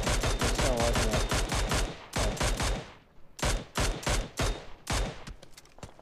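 Gunfire in the mobile game PUBG Mobile comes as rapid automatic bursts, loud and close, with a short lull before more bursts and scattered single shots follow.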